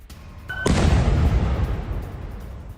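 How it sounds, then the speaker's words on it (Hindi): A sudden, powerful explosion in a Moscow restaurant booms out and leaves a loud, rumbling roar that lingers and slowly fades. "मॉस्को के एक रेस्टोरेंट में यह बड़ा धमाका हुआ"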